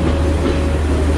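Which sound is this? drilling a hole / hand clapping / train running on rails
train running on rails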